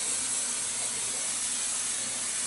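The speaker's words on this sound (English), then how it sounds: "I'm going to use my hairspray and steady this" Hairspray hisses from a can onto a wig in one continuous close, steady spray lasting a couple of seconds, with no voices.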